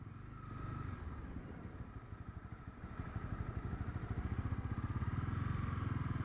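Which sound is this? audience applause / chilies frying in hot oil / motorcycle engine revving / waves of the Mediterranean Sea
motorcycle engine revving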